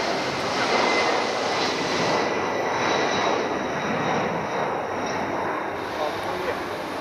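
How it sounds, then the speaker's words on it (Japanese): A JAL Boeing 767 taking off at Haneda Airport, bound for Naha, gives a loud, sustained jet roar with a broad rushing hiss that slowly shifts in tone, and a voice talks beneath it. "JAL のボーイング767が離陸です。"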